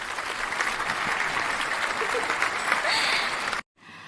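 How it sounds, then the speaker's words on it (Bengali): A group of people clapping for a birthday, with dense, steady applause mixed with voices, ending abruptly in near silence. "সবাই মিলে হাততালি দাও"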